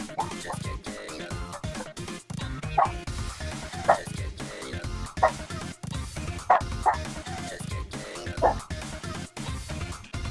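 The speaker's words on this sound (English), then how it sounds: "Where are you going, puppy dog? What is there to yell about?" A dog barks and yelps repeatedly in short, sharp bursts at close range, with whimpering yips between the louder barks.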